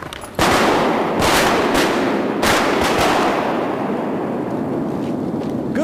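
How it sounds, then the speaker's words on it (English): Shotguns fire at ducks during a duck hunt, a quick burst of several loud, close blasts in the first seconds, then a continuous rushing wash of wind and outdoor noise. "Good shooting, y'all."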